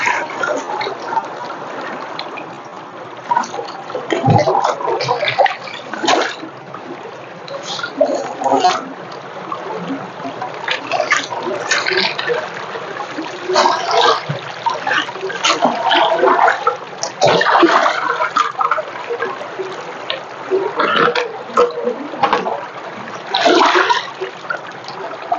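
A strong river current rushes and splashes without pause, loud and close, while someone talks over it at times.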